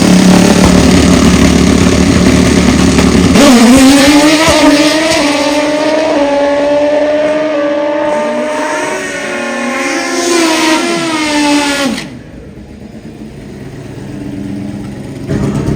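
Drag-racing motorcycles at a bike fest, turbo, nitrous and naturally aspirated machines, rev hard in a loud, sustained roar, the engine pitch climbing in long sweeps before it cuts off abruptly, leaving quieter rumbling behind.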